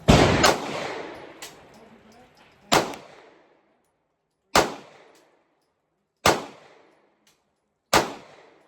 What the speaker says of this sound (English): Let's take a look at those first shots with it.